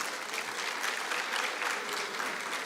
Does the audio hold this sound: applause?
yes